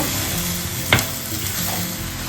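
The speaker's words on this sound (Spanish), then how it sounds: "Sofreímos todo." Meatballs sautéing in a pan give off a steady, dense sizzle up close, with one brief scrape of a utensil partway through and no talking.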